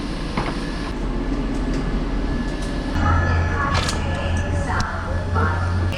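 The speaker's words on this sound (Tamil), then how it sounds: "இதுதான் இந்தியாவிலே ஃபஸ்ட்டு ட்ரெயின் வந்து டைனிங் காரில் ஓடுது" A Pune to Mumbai train with a dining car runs along, its steady low rumble and rattling carriage noise continuous and close, with faint voices in the background.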